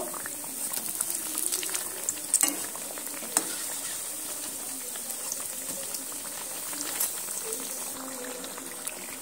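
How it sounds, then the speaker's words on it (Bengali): Flour, green pea, carrot and beetroot snacks deep-frying in hot oil, a steady close sizzle and bubbling with occasional clicks and scrapes as pieces are turned, no voices. "এইভাবে সমস্ত আমি অপর পিঠগুলো উল্টে দিয়ে সুন্দর করে একদম লাল লাল করে মুচমুচে করে ভেজে নেব"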